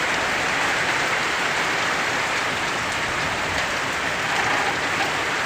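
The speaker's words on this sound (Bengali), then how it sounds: "প্রচণ্ড জোরে বৃষ্টি হচ্ছে।" A loud, unbroken roar of heavy rain during a Kalbaishakhi storm with strong wind in Bajitpur, Kishoreganj, pounding constantly and close with no pauses or voices.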